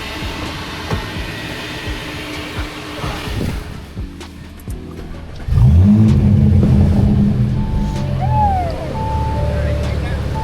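A 500 whp Audi RS5 engine revs up at close range with a loud low roar that swells midway and holds, after rougher car and wind noise, with a brief voice in the background.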